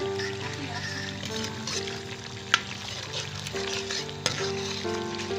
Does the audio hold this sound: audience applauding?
no